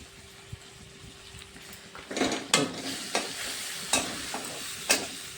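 Spices sizzle in hot oil in a pan for a soybean kofta curry, with a steady fry hiss and several distinct stirring scrapes at intervals, close and moderately loud, no talking.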